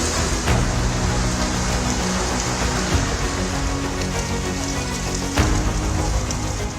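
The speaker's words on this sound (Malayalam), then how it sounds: "കൊൽക്കത്ത, ഹുബ്ലി, ഹൗറ എന്നിവിടങ്ങളിൽ കനത്ത മഴയാണ്." Heavy rain from cyclone Remal pours down steadily in Kolkata, a dense, continuous hiss of drops on surfaces with no voices, loud and unbroken throughout.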